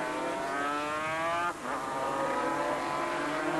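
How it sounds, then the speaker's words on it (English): Racing 500cc four-cylinder Suzuki motorcycles, around 115 horsepower, scream past at full throttle on a circuit, a loud high engine whine that drops in pitch midway as one machine passes close. "Radford on the 500 4-cylinder Suzuki, around 115 horsepower."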